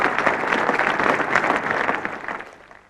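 A modest crowd at Lord's cricket ground rises in sustained applause for young Somerset all-rounder Ian Botham, steady dense clapping that holds for over two seconds before beginning to fade.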